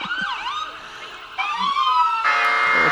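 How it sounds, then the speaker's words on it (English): An emergency siren wails loudly and close at a Christmas parade, its pitch sweeping up and down, then switching to a faster, brighter pattern near the end. "The kids love these sirens, whether we do or not."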